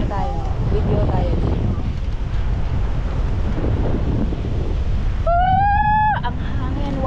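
Strong wind buffets the microphone with a constant heavy roar while parasailing at Boracay, and a high voice calls out briefly near the end.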